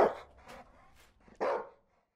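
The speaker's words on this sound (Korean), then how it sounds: "개소리 좀 어떻게 해주실래요?" Dog barking in an apartment building, heard as a few short barks with a louder burst near the end, then silence.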